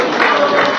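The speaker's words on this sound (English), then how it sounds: "Let's give a big round of applause to Dinesh Prabhu." Brief burst of audience applause for a feast sponsor at a Raksha Bandhan and Balaram Purnima celebration, dense close clapping lasting under a second.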